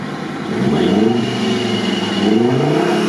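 The engine of a Rosomakha off-road trophy vehicle revs while driving through boggy terrain, making a loud, close, rising and falling mid-pitched drone that holds steady with rhythmic pulsing throughout.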